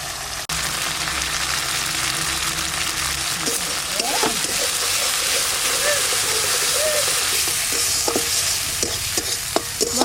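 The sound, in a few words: spice paste frying in a pan for pomfret curry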